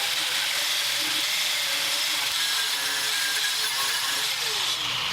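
An angle grinder fitted with a wire brush cleans a broken metal fence post, a continuous close, loud whirring hiss with a gritty edge, steady throughout with no talk.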